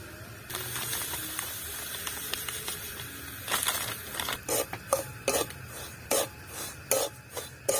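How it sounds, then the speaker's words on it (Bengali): Semolina roasting in hot ghee in a kadai for halwa, heard as a steady dry rasping and scraping of the grains, with sharper spatula scrapes and taps coming in a rhythmic run toward the end. "সুজিটা আমি ভালো করে ভেজে নেব।"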